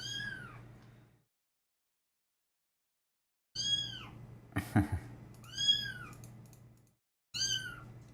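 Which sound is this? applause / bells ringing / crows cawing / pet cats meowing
pet cats meowing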